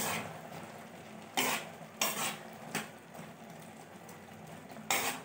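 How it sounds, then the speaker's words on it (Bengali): A spoon stirs matar ghugni with a roasted spice mix in a pan, producing four or five distinct scraping strokes over a faint, low simmering sizzle, with no voices. "ভালো করে মিক্স করে নিচ্ছি"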